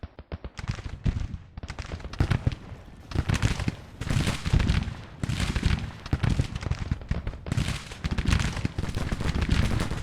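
Cannon and gunfire in a video game battle, with levitating cannons and red-coated soldiers firing volleys; dense, loud bursts of booms and cracks continue throughout, close and overlapping with no pauses.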